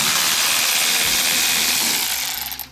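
A power wrench runs continuously, loud and close, as bolts come off a fire-damaged BMW M4, with a steady whirring mechanical drone that tapers off near the end.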